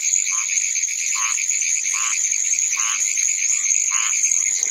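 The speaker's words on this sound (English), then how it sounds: "There's something calling in here. I think they're pine woods tree frogs, but I'm not sure." Pine woods tree frogs call from Apalachicola National Forest in Florida, a continuous dense high trilling chorus with lower pulsed notes repeating about once a second, steady and fairly loud.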